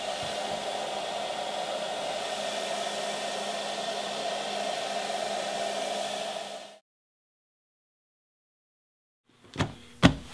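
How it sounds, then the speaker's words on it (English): A hair dryer blows hot air over a waxed canvas pack to melt wax into the fibers, a steady close whooshing hum that cuts off abruptly, followed by silence and a couple of sharp knocks. "I'm just gonna take a hair dryer and begin to go over it and melt that wax right into the"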